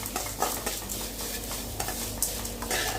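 Grated coconut fries in a pan while being stirred, a close sizzle broken by repeated scraping strokes of a spoon against the metal.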